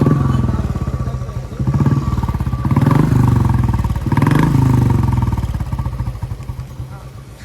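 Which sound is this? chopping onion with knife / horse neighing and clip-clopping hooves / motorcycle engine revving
motorcycle engine revving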